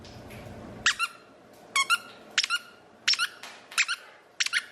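A dog chomps a squeaker toy, giving sharp, high squeaks in short pairs and bursts at a steady pace, close by over a low room hum, with no talk.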